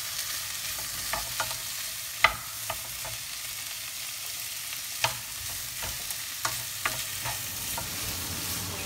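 Mushrooms, chorizo and tomato frying in a pan with red onion and garlic, a soft continuous sizzle broken by scattered taps and scrapes of stirring, close by and without speech.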